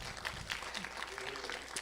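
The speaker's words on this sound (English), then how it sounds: "Let's give them a round of applause." Scattered audience applause at a community justice informational meeting, moderate and diffuse, with a few sharper claps standing out over a low murmur of background voices.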